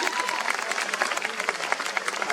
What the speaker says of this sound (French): Donc ça s'applaudit parce que c'est une belle histoire quand même.